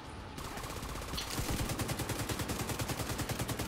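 A turret firing in a video game, a rapid, even stream of loud shots after a brief softer stretch, continuing steadily to the end with no talking.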